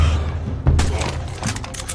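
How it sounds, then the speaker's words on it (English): Gunfire in the ARK survival video game, several sharp shots and thuds popping in bursts over a steady low in-game rumble, moderately loud and close, with no one talking. "someone is shooting the players"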